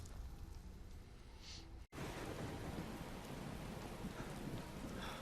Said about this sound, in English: It is raining now. It's freaking storming out here in the Whiterun plains.